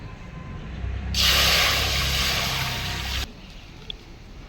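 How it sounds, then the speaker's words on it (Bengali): Water poured from a vessel into a pan for boiling spinach in a village kitchen, a loud close rushing splash lasting about two seconds and then stopping abruptly over faint outdoor background noise. "পালং শাক সেদ্ধর জন্য জল দিয়ে দিচ্ছি।"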